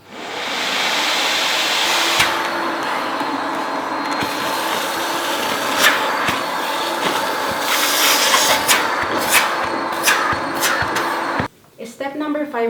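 Steam cleaner vacuuming water off tile grout during end-of-lease cleaning, a steady loud broadband suction roar with scraping and clicks throughout, cutting out near the end.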